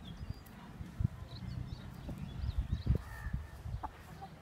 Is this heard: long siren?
no